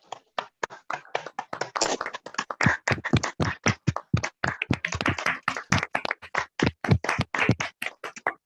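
Clapping rings out at an online webinar, many quick, close sharp claps in an uneven rapid rhythm that carries on steadily without any talk.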